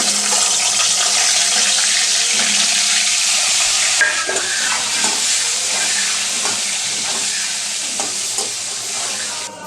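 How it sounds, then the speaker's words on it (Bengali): Thin potato slices coated with salt and turmeric frying in oil, a loud, close, steady sizzle with intermittent scraping and stirring that grows a little softer toward the end. "আলু ভাজা হয়ে গেছে, আলু তুলে নিচ্ছি।"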